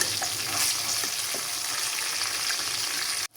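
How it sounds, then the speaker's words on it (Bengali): A steady, dense sizzle of fish frying in oil fills the whole stretch, loud and close, cutting off abruptly right at the end. "2 পাশে আমি সুন্দর করে একটু লাল লাল করে ভেজে নিব"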